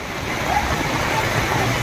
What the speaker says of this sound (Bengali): বিটি রোড দিয়ে এত জল ঢুকছে। এই জলের তোর কত, এত জলের টান।